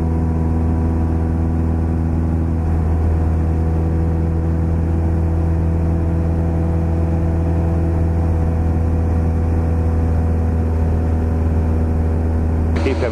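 Steady drone of a light training aircraft piston engine at cruise RPM during a night flying lesson, a constant low hum with strong even tones, loud and unchanging throughout, heard from inside the cockpit.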